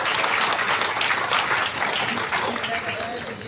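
Loud, dense applause from an audience at a women's conference where children performed, a steady wash of clapping that slowly tapers toward the end.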